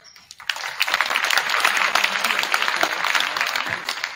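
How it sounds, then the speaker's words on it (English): Applause from student athletes and parents at a school signing day ceremony, a dense burst of clapping that starts abruptly and holds steady and loud for several seconds. "Round of applause."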